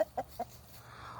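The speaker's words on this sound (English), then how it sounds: "He'll cluck at them, let them know that there's food where he is." A farmyard rooster kept with hens and guinea fowl gives three short, close clucks in quick succession while calling the hens to food, followed by soft background hiss.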